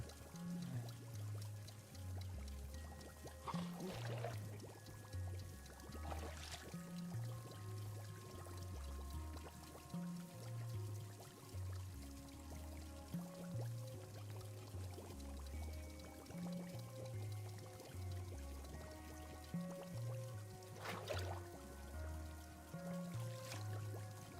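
Water pours steadily as a cup is washed in the video game Wanderstop, a continuous trickling stream that runs the whole time beneath looping, stepped game music.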